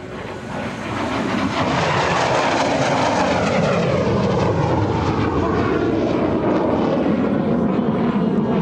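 A MiG-17 jet makes a high-speed pass at the EAA AirVenture 2025 airshow, a loud roaring engine that swells quickly and holds as a broad, shifting rush of jet noise with a falling pitch sweep.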